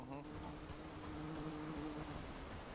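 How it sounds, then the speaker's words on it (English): Bees buzz in the medieval survival video game Bellwright, a steady low drone that runs throughout the moment beneath the game's ambient sound. "Bees."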